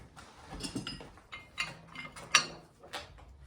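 Nuts being loosened with a ratcheting wrench from the bolts of a ZIL 4331 spring bracket in a workshop, producing scattered close metallic clicks and ticks at an irregular pace with one sharper clack near the end.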